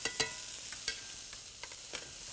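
Scallops searing in a hot pan on a cooking show, giving a steady, moderately quiet sizzle with a few sharp crackling pops scattered through it.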